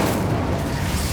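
Incendio fire spell unleashed in the game Hogwarts Legacy: a heavy, continuous explosive roar with deep rumbling power, loud and close, with no pause.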